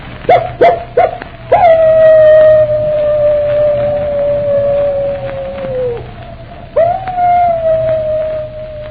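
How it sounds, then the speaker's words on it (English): A wolf dog howls in an old radio drama, with a few short yips followed by long, loud, sustained howls that waver and fade, then a second howl rises again, close and prominent. "That howl, it's the wolf dog."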